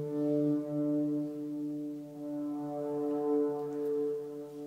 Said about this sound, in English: just that piano sample alternating with that the vocal sample